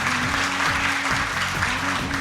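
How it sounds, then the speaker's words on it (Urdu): Applause from an audience at a National Minority Day event honouring a guest, a dense steady clapping wash under sustained music. "بھرپور تالیاں ہونی چاہیے۔"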